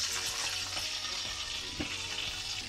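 Fish deep-frying in hot oil in Jamaica gives a constant, fairly quiet bubbling sizzle with faint crackles and occasional soft clicks, with no voices.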